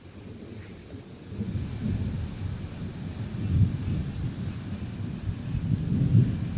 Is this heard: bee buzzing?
no